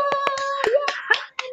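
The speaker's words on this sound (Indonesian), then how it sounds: "Kasih tepuk tangan dong." A handful of sharp hand claps at an online training session, spaced unevenly over a steady tonal background with a voice and cheering mixed in.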